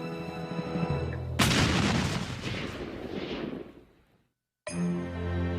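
A cannon fired in an 1835 Texas skirmish: one sudden heavy boom over a musical background, rumbling away for roughly three seconds before silence and the music's return.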